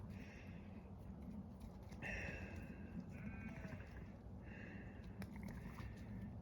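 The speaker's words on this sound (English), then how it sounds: "You can hear the ewes talking in the background" Ewes bleat repeatedly at mid distance, several overlapping calls over a steady low background rumble.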